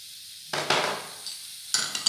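Two medium onions sliced lengthwise, frying in two and a half tablespoons of cooking oil until golden brown for masala chole: a close hiss that rises in two bursts with faint clinks between them and no voices.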